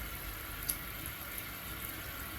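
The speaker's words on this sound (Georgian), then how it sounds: "ახლა წყალს მოვუშვებ" A tap runs steadily into a sink, a continuous close hiss of flowing water with no voices.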